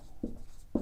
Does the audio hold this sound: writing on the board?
yes